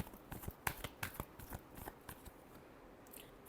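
Tarot cards shuffled by hand give a run of quick, crisp riffles and flicks, close and fairly quiet, with uneven bursts and no talking.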